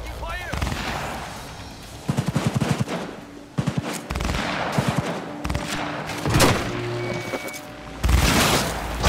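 Bursts of gunfire in the video game Cyberpunk 2077 during a warehouse fight: rapid rattling volleys and heavy booming shots in irregular clusters, loud and close, with a character's voice heard between them.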